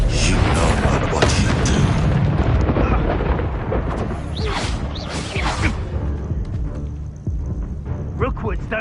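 Booming fiery blasts of the Confringo spell in Hogwarts Legacy, several heavy whooshing explosions in quick succession amid loud battle effects, with a voice shouting over them.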